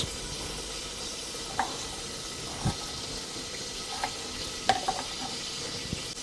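Onions sizzling in a hot pan under a steady frying hiss, with a few sharp clinks and scrapes from stirring scattered through, close and fairly quiet.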